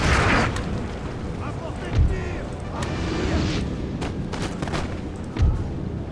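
Cannon and musket fire in Napoleon: Total War, a continuous crackling battle din with two deep booms standing out, all under steady talk.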